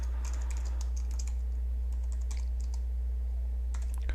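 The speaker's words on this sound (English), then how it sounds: "I can simply type the title of my album there" Typing on a computer keyboard while entering an album title in a photo gallery: steady, close clicks of keys in short bursts, with a constant low hum underneath.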